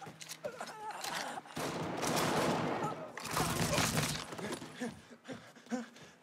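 Weapon fire in Mafia 3: two long, loud sustained bursts of rapid shots with breaking, shattering debris, separated by a brief gap, then scattered quieter hits and clatter.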